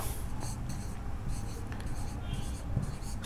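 A pen or chalk scratches out a word during a lecture in quick, short strokes, close and fairly clear, with faint speech-like murmuring underneath.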